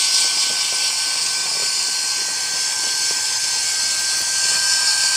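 A dynamo electric motor fitted with heat-resistant machine bearings spins continuously on a test run, giving a steady, loud high-pitched whir with a constant tone and no talking.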